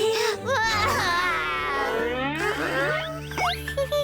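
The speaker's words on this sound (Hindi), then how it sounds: "ये उन्नी के रोने की आवाज मेरे कान में चुभ रही है।" An animated cartoon baby cries loudly in rising and falling wails, with a short whimpering break and a few bouncy cartoon sound effects near the end.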